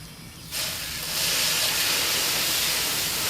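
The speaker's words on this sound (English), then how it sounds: "Rinsing everything out from top to bottom to make sure it all goes into the pan." Water rushing and hissing steadily as Gold Cube material is rinsed into a gold pan, growing louder after a brief quieter start and continuing without a break.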